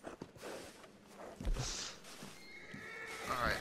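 A horse in a video game whinnies with a rising, quavering neigh near the end, preceded by hoofbeats, snorts and game noise.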